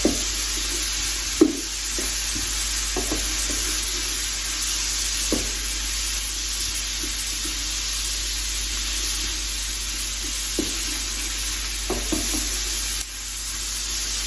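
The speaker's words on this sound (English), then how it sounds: "And then that lovely sizzle, lovely smell, aromatic smell coming through the kitchen" Mushrooms sizzle steadily in a hot frying pan with a constant hiss, broken by occasional light scrapes and taps of stirring.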